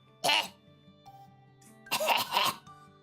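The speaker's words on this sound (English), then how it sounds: "And there's the cough." A person recovering from a nasal illness coughs twice, a short throat-clearing burst followed a moment later by a longer double cough, close and fairly loud against quiet room tone.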